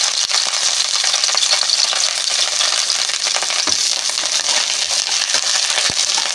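Curry leaves crackling in hot oil for a Nellore-style fish pulusu, a loud, dense, unbroken sizzle with scattered sharp pops running throughout.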